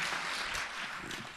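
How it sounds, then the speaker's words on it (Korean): An audience at an evening church family-ministry gathering applauds, a dense, continuous wash of clapping filling the whole short moment with no break. "우리 박수, 뜨거운 박수 보내드리겠습니다"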